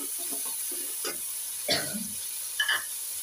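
Raw meat dropped into a hot pan for Chinese biryani gives a soft background hiss and stir, with brief louder sizzling bursts and clattering scrapes, faint and close.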